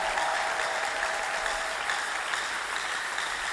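A church congregation at a national prayer gathering applauds and cheers for the Lord, a steady, dense wash of clapping from a large crowd that carries on loudly and evenly throughout.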